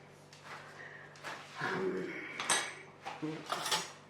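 A teaspoon scrapes and taps against a chocolate mould while pushing melted chocolate into place, soft irregular scratches and light clinks close by, with a person talking faintly over them.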